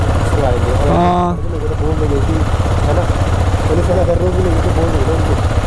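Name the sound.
Yamaha MT15 motorcycle engine idling after a cold start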